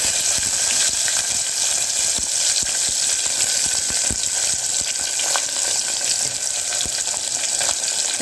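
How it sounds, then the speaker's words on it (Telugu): Onion and green chillies frying in oil for bagara rice, a steady close sizzle throughout with occasional sharper pops and crackles, with no voices. "నెక్స్ట్ ఆనియన్ అనేది యాడ్ చేసుకోవాలి."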